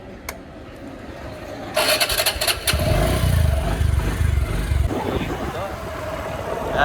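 A motorbike starts up partway through and settles into a steady mid-pitched engine drone, with people talking nearby before and over it.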